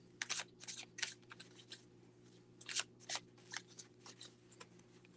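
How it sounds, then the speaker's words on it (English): A deck of playing cards is shuffled by hand nearby, giving several quick riffling bursts in two groups, crisp and fairly quiet over a steady low background hum. "Let me shuffle."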